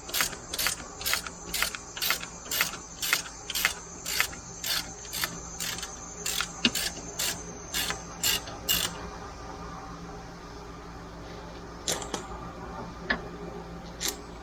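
Ratchet wrench loosening a 12 mm rear bumper bolt on a 1992 Banshee, with a regular series of close, crisp clicking strokes for about nine seconds, then a few scattered clicks after a pause.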